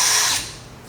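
Power drill whirring as it backs screws out of wood paneling inside a van, a single short burst that starts loud and quickly trails off, with no talking.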